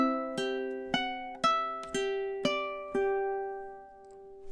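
A ukulele plucks one measure of a song, with about six clean picked notes in a steady rhythm that ring over one another, close and clear with no voice.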